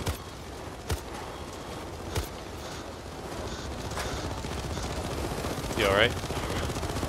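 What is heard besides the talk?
gunfire from enemies in the video game Payday 2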